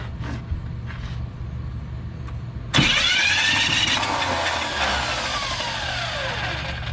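A 1985 Chevrolet Camaro Z28 engine cranks with its torque converter spinning. It is quiet at first, then a sudden loud whirring starter drone holds steady to the end.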